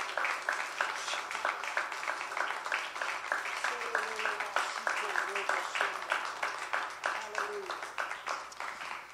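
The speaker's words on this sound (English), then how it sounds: "Give Jesus a big hand clap of praise." A church congregation claps in praise, producing a steady run of rhythmic handclaps. A voice talks over the clapping partway through.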